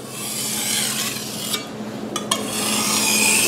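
A Chinese vegetable cleaver (cai dao) is drawn across a whetstone in a steady, continuous rasping scrape. It is close and fairly loud, with two brief sharper scrapes partway through, and no voices.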